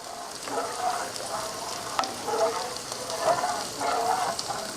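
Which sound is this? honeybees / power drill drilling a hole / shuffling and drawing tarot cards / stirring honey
stirring honey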